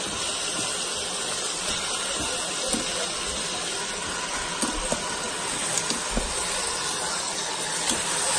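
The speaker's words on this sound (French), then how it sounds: "je retourne ma viande pour qu'elle soit bien cuite des deux côtés." Lamb meat sears in a Cookeo pot with a steady, close hiss and sizzle of hot fat, broken by occasional small pops and crackles.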